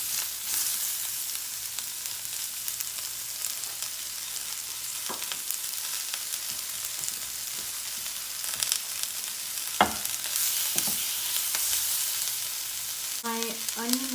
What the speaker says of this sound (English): which is what you want to see when you're sauteing your onions